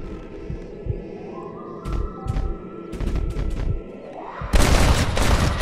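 Gunshots in a Red Dead Redemption duel, several sharp booming reports scattered over a low hum, ending in a loud sustained burst of noise, with no talk.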